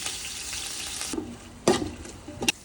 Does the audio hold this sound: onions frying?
yes